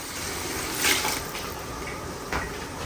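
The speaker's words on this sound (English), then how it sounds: "So I'm just going to add regular water." Plain tap water poured into a pot of Nigerian egusi soup, a soft splashing rush with a stronger burst near the start and another short pour near the end, close by in a quiet kitchen.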